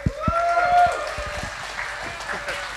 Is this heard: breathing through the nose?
no